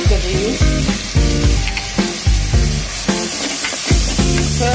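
Kashmiri red chili powder frying on a medium flame for chicken changezi, a close sizzle broken by a rhythmic series of about eight hard spatula knocks and scrapes against the pan.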